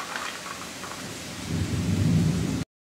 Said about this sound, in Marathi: बाहेर पाऊस चालू होता, त्याच्यामुळे पावसाचा आवाजही मध्ये मध्ये येत होता